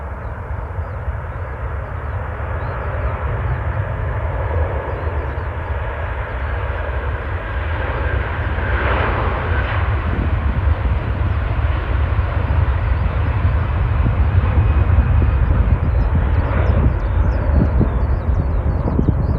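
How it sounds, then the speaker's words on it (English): Virgin Atlantic Airbus A330 jet taking off from runway 23 right at Manchester Airport, a steady heavy engine rumble and roar that builds slightly and holds loud throughout, with no voices over it. "Special about the rumble of an A330's jets."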